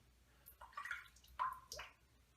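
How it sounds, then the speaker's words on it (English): Water dripped from above onto the face of a shaving brush during wet-shave lather prep, giving three soft, close splashy drips spaced across a quiet moment. "I'm just dripping some water onto the face of the brush."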